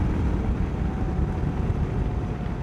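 A Yamaha V Star 650 Classic V-twin motorcycle engine accelerating, a steady broad low rumble mixed with wind rush across the whole stretch, with no talking.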